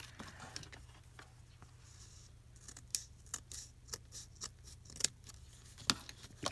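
Scissors snip a photo for a planner, with a quiet run of sharp, irregular cuts over faint low room hum and no talk.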